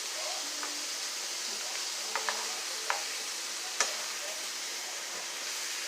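Shrimp sauté in a pan with tarragon, a steady broad sizzle throughout with a few light taps and clinks of stirring.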